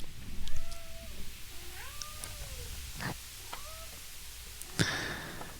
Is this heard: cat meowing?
yes